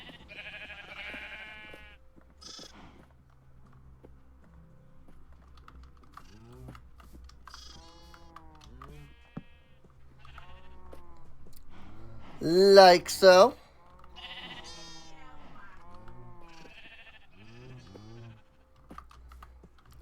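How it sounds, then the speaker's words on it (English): Sheep bleating in Minecraft, several wavering bleats scattered through the clip with one louder burst in the middle, heard under someone talking and the clatter of a computer keyboard. "And let's get all the other sheep out."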